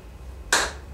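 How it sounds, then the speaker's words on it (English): One sharp hand clap rings out midway, crisp and close, with a short decay into a quiet room hum. "Clap your hands."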